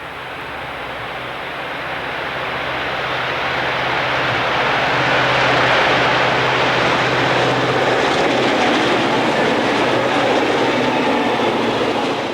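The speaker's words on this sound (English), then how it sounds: "southbound freight CHC approaches behind a quartet of GP38s" An Illinois Central southbound freight train led by four GP38 locomotives approaches at Mason in 1990, a broad rumbling roar swelling steadily louder and then holding close and heavy.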